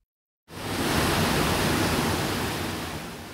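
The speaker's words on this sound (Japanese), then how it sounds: "奥日光三名瀑の一つ竜頭の滝の今朝の様子です" Ryuzu Falls in Oku-Nikko, Japan, roars in a steady, dense rush of white water, starting abruptly after a brief silence and holding constant.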